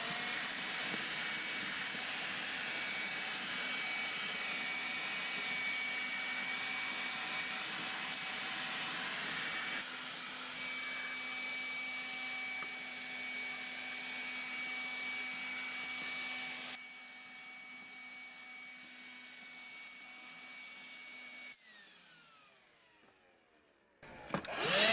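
A vacuum cleaner runs loud and steady while sucking debris from the engine bay of a 1990-94 Lexus LS400, its whine shifting in pitch before it switches off and spins down.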